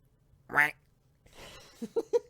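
A person imitates a duck with a loud nasal quack, followed by a few shorter breathy squawks and clicks, close to the microphone in a quiet room.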